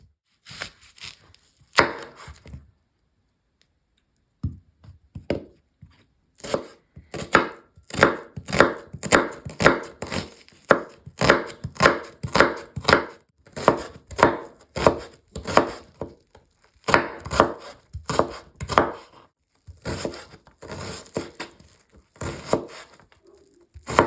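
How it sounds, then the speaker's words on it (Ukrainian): Two medium onions are finely chopped on a board with a knife, producing loud, rapid, close knocking strikes in long rhythmic runs broken by brief pauses. "Беремо дві середніх цибулини, це приблизно 200 г, та нарізаємо дрібненько."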